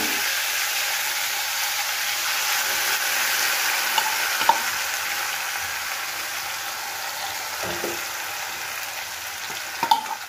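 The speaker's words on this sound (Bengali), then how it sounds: "এবার এই যেটা আমি কষিয়েছিলাম, মানে ম্যারিনেট করেছিলাম, সেই ম্যারিনেশনটা এবার আমি দিয়ে দেবো তেলের মধ্যে" Mutton marinade fries in hot oil, a bright steady hiss and sizzle throughout, with a few sharp utensil taps and clicks near the middle and end.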